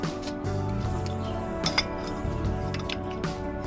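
A metal brake caliper tool is picked up and handled during a front brake pad job on a Toyota Highlander, giving several close, bright clinks and light metallic knocks in a short, irregular burst.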